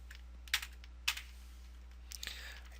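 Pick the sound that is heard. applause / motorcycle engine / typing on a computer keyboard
typing on a computer keyboard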